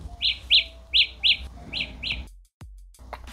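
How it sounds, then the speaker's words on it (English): Samsung Galaxy Buds 2 earbuds emitting their find-my-earbuds ring: a series of six short, shrill electronic chirps in a quick uneven rhythm, nearby and fairly loud, followed by a brief dropout. "you can hit ring to play a sound when they're close to you."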